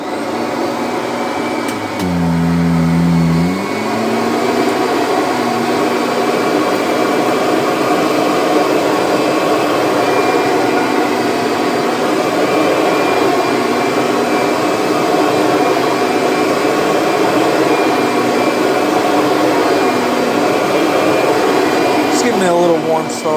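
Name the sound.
Kirby Sentria vacuum cleaner running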